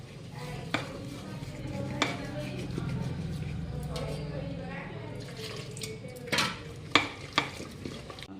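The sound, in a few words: mixing dhokla batter with turmeric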